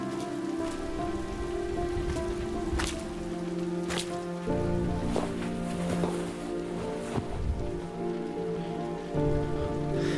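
Rain in the video game Road 96, steady pattering on a surface with scattered drips, heard under sustained musical tones and low hum, moderately quiet.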